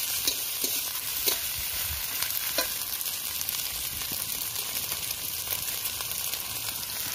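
Whole cumin seeds fry in hot oil with a continuous crackling sizzle, cut by scattered pops and utensil clicks while the pan is stirred.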